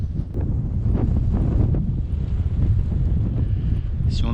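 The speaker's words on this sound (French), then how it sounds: "Il y a un peu de vent" Steady wind buffets the microphone with a low, rumbling roar beside a dam reservoir lake in southern Tajikistan, south of Dushanbe, constant and close with faint gusts throughout.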